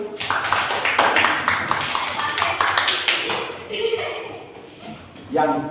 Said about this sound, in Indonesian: tepuk tangan untuk Amri